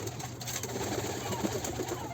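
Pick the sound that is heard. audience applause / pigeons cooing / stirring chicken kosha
pigeons cooing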